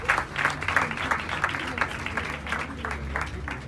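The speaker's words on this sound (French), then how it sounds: "S'il vous plaît, des tonnerres d'applaudissements." Audience applause at a school excellence awards day in Senegal, rhythmic unified clapping in a regular beat over a low background hum.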